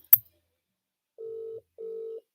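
A phone rings back after a call: a sharp click, then two evenly spaced, moderately loud ring tones alone in the quiet.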